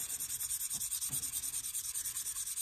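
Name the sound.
sharpening Cold Steel Air Lite knife on KME 300 grit stone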